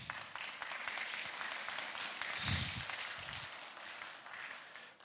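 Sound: audience applause at university anniversary ceremony

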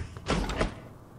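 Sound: door opening in the video game Prey

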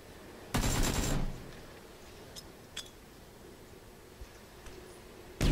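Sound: gunfire in the video game PUBG

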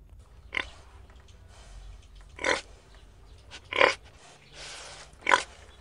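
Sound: pig grunting

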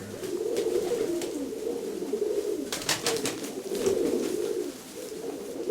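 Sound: pigeons cooing

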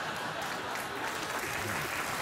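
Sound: studio audience applause

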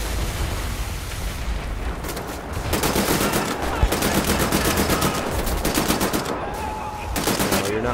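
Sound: turret machine gun fire in video game Wolfenstein: The New Order

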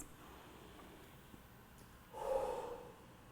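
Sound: huffing breathing exercise

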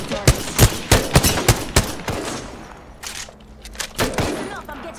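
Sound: gunfire in the video game Apex Legends

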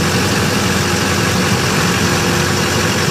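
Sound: GMC Sierra 2500HD 6.6L diesel engine idling

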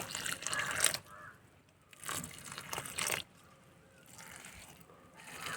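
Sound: watering soil in a begonia propagation pot

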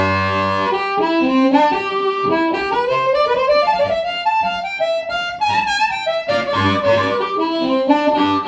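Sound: harmonica through Strnad microphone with harp attack on

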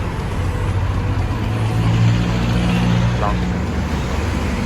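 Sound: Honda CR-V engine starting by remote start

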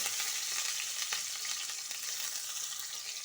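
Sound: onion frying in a pan

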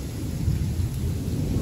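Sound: rain still falling outside

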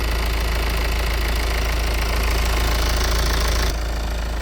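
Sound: two-litre diesel car engine idling

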